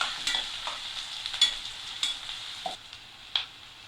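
Onions sauté with popped mustard seeds in a pan, a soft continuous sizzle with a spatula scraping and tapping at irregular moments, close by and alone.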